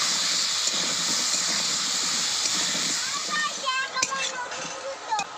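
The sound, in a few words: new potatoes frying in oil in a pan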